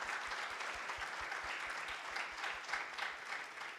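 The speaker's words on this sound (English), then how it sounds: "I'd just like to applaud them." A conference audience at a local content summit in Guyana applauds, dense even clapping from a sizeable crowd held at a steady level, fairly distant, with no talking.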